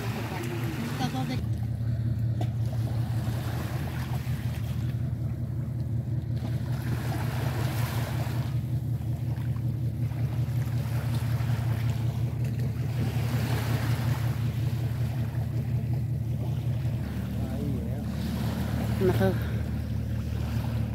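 Wake waves from passing ships and small boats washing in along the shore at Patmos, Greece: a low, continuous rolling wash with wind buffeting the microphone and an occasional voice in the background.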